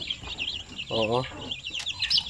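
Native Zampen hens clucking and chirping in a brief burst close by, with a person speaking over them.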